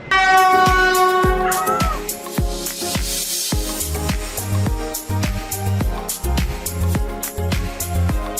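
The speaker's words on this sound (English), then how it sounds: "The train's going to come. Oh, it's coming." A train horn sounds loudly at first in Naha, Okinawa, Japan, followed by rhythmic clattering and rumbling of railcars rolling in close by.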